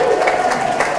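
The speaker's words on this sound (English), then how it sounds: "again, look at you got an applause" Audience at a jury assembly room dedication ceremony applauds, a brief burst of close, steady clapping from a crowd.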